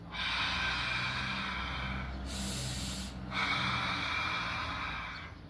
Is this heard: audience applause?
no